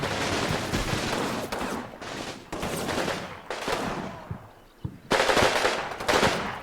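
Gunfire from the World War II strategy game Combat Mission, with Italian partisans and Americans fighting: sustained bursts of machine-gun and rifle fire crackle loudly and almost continuously, with a brief lull before a fresh heavy volley.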